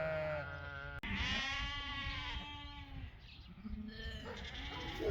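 Lambs in a paddock bleat repeatedly and close by, several overlapping calls in the first half, then quieter stretches with another bleat near the end.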